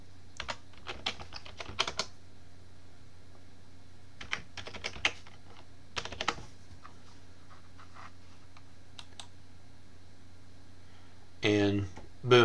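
Computer keyboard keys tapped while entering a password, short irregular bursts of quick clicks separated by pauses, close and fairly quiet, with a brief voice at the end.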